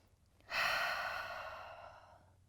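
One slow, deep breath during a yoga session: quiet room, then a soft, airy exhale that swells suddenly and fades gradually over about two seconds, close to the mic, no talking.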